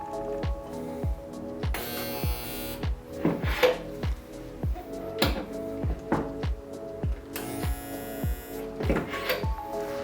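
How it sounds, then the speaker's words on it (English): A Harbor Freight stud welder fuses studs onto the sheet metal body panel of a 1995 Mitsubishi Eclipse, a series of many short, evenly spaced electrical zaps with a humming buzz, close and moderately loud. "So I'm gonna go ahead and get some studs put on it and we'll get to pulling."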